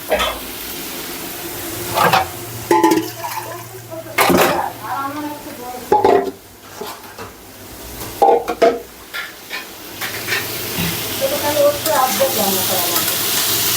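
Pointed gourd and potato sizzle in oil in a small wok while a spatula clatters and scrapes in irregular bursts, with a voice talking over the steady frying.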